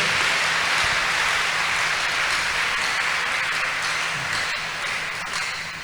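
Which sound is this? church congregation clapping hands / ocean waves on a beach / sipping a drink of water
church congregation clapping hands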